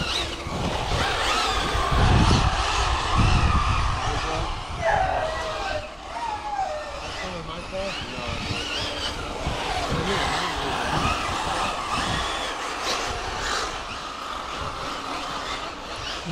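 A Team Energy A7X 1/7 scale RC car on a racing track, its motor whining and rising and falling as it accelerates and turns, with some tyre scuffing and loud steady noise throughout.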